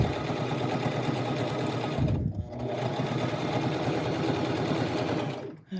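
A Brother LX 3817 sewing machine stitches back and forth in a rapid, steady mechanical chatter, close and loud, with brief pauses where the direction changes.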